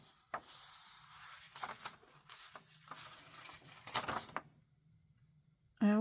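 Scissors snipping and paper rustling as book pages are trimmed for a handmade Christmas candy box junk journal, several short close cuts and rubs in quiet room tone, ending in a brief sharp sound.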